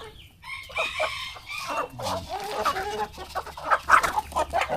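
Several Chabo bantam chickens cluck and squawk close by, with a rooster crowing among them, a busy overlapping flock chorus.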